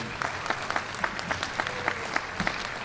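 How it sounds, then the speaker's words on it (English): Families at a school graduation applaud in a fairly quiet, scattered round, with distinct individual claps popping out against a soft background wash of clapping throughout. "I want you again to give your parents, grandparents, aunts, uncles, and relatives a round of applause for how they supported you"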